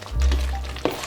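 Al dente orecchiette pasta gets stirred in a pan, giving a brief low rumble and soft scraping with a small clink near the end, over about a second.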